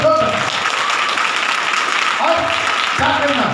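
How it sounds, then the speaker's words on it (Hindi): A crowd applauds loudly at a Hindi Bible study gathering, with dense sustained clapping and a speaker's voice talking over it. "जोरदार ताली बजाएगा, जोरदार।"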